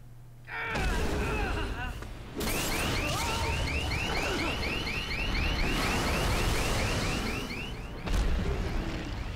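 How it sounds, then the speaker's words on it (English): In a Marvel vs. Capcom Infinite story-mode scene, a car alarm whoops in repeated rising sweeps amid loud game noise, impacts and growling effects, with a voice speaking over it. "there's no way that little car alarm can be affecting that."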